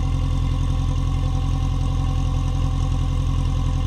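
A car engine idling with a cold exhaust pipe blowing out condensation, a steady low rumble with even pulsing, constant and close with no voices.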